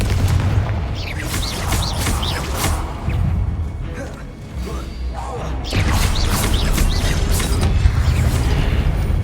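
Repeated Confringo fire spell blasts from the Hogwarts Legacy game crackle and boom in rough succession, loud and close, with a spoken voice over part of the noise.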